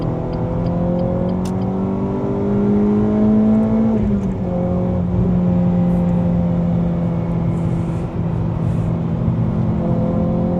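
A Renault Clio 3 RS Trophy with a 200 hp engine revs hard at high rpm, around 6000, with a loud, sustained, rising and falling engine whine and drone, heard from inside the car with little talk.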